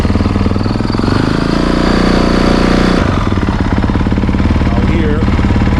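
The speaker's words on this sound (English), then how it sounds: "Here's where you start the bike." A 2024 Honda CRF450RWE fuel-injected dirt bike engine fires up and settles into a loud, rapid, steady idle close by, the hammering exhaust pulses running without pause.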